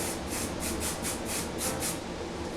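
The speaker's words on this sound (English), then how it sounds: "I am going to spray them a little bit" BedHead Hard Head hairspray sprayed onto hair in eight quick, close hissing bursts in a steady rhythm, with no talking.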